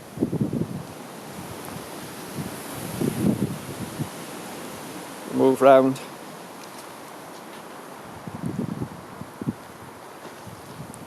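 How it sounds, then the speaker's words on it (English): Wet, windy autumn weather in a garden: steady broadband wind and rain-like hiss across the whole stretch, with low gusty swells and a brief spoken phrase partway through. "It really has been days and days of this grey, dark, horrible, wet, windy weather."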